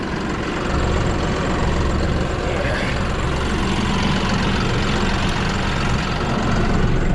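A farm tractor idling in a corn field during night planting gives a steady, loud, low engine rumble that runs unbroken from start to finish with no speech.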